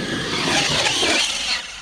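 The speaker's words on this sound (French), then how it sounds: "On entend les pneus frotter la carreau." Tires of an RC car, the Proto NXT-MT 2.0, scrubbing on a tile floor while its motor whines: a loud, close, steady rushing hiss that drops off abruptly near the end, with no voices.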